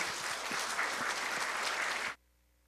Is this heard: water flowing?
no